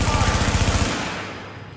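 Rapid automatic gunfire in the shooter game The Division, a loud, close, evenly spaced burst of shots lasting about a second, then a rumbling tail that fades out.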